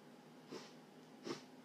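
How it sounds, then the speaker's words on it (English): Two short nasal sniffles from a person with a runny nose, spaced about three-quarters of a second apart, close and fairly quiet against a faint background hum. "I'm sorry to be sniffling."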